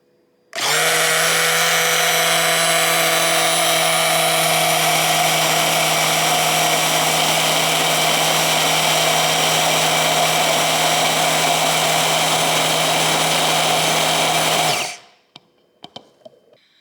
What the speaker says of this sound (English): then I'm going to blend this with my immersion blender